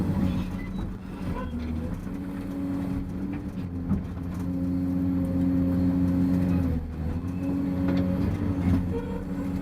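A heavy quarry haul truck, a Cat 775, rumbles steadily nearby at a rock cut, its deep engine drone rising and falling as it passes, with no talking.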